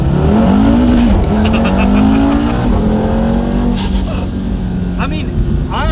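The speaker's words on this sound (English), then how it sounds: "you hear that turbo as well" A 500 bhp Audi TT RS with a turbo engine accelerates hard, a loud rising engine drone with tire noise, heard from inside the car while people talk over it throughout.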